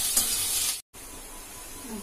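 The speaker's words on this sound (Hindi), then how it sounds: "आलू और प्याज हमारे भुन चुके हैं" Potatoes and onions fry in a pan with garlic for Punjabi-style palak kadhi, a soft close sizzle and hiss with a brief dropout midway, no voices.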